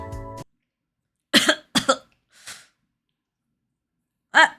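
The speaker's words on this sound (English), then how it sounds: "Ryuki started to cough" Ryuki, an anime character, gives a close burst of two or three sharp coughs, then a short breathy exhale and one last cough after a pause, with no talking.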